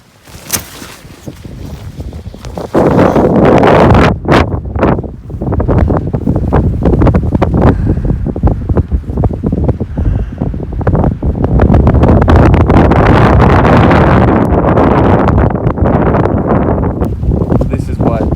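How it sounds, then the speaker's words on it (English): Strong wind blowing on the Devon coast during a storm at a wild camp, loud roaring gusts buffeting the microphone almost continuously after a quieter start. "it's incredibly windy"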